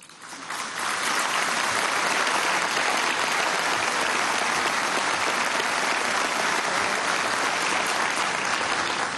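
A large audience bursts into sustained applause after a speech at the opening of a judicial year, swelling within a second into a dense, even roar of clapping that holds steady throughout.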